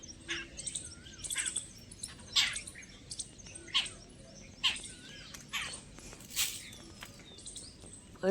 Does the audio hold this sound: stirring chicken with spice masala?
no